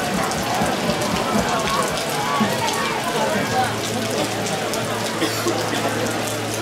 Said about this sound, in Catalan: Una pluja per tot arreu.